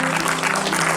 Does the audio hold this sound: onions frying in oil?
no